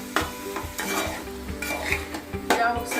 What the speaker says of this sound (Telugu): ఇలా ఒకసారి బాగా కలుపుకొని మూత పెట్టుకోవాలి